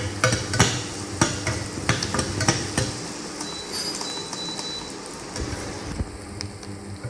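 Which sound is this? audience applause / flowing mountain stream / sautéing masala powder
sautéing masala powder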